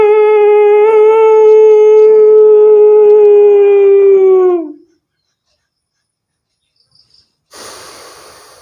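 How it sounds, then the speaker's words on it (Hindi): A breath drawn in through a deliberately constricted throat during a yogic breathing exercise, making a long, steady, voiced friction sound for about four and a half seconds. It stops abruptly, silence follows, then a short, noisy breath. "गले में एक संकुंचन करते हुए ये श्वास को अपने फेफड़े में भरें और गले में जो है घर्षण सी होगी।"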